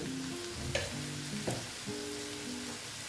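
Dried loitya fish paste with turmeric frying in a pan for shutki vorta: a steady, close sizzle with a few sharp stirring knocks, over faint background music.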